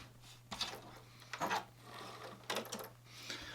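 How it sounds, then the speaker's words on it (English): A sewing machine chain-pieces fabric strips for a patchwork zigzag border, running in short stitching bursts separated by pauses. The stitching is faint and close, with a steady low hum underneath. "we got some sewing to do. So go ahead and chain piece these"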